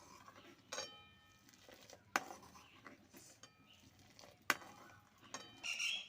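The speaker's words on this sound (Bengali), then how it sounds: "ভালো করে মিশিয়ে নেব দুধের সঙ্গে।" Spoon stirring sugar into boiled milk in a pot, with intermittent metallic clinks and scrapes against the pan over a quiet background, close and faint between sharper taps.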